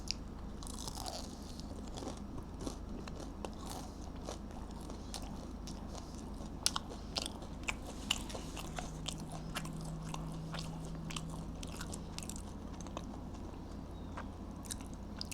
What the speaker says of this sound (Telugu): సో ఫస్ట్ అయితే ఒక స్ట్రిప్ అయితే టేస్ట్ అయితే చేద్దాం